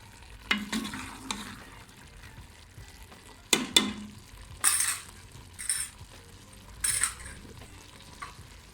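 A spoon scrapes and clanks in a pan as potato and egg curry with fresh coriander is mixed, making about half a dozen distinct strokes over a faint low simmer with no voices.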